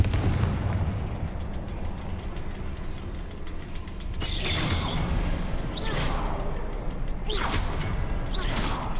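A Confringo blasting spell in the video game Hogwarts Legacy fires with whooshing bursts and booming explosions, several in quick succession over a rumbling background.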